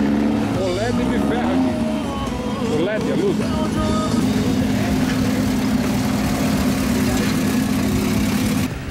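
Jeeps sit idling in a stopped queue on a club trail ride near Chapecó, a steady, close rumble of engines running continuously with a faint voice now and then.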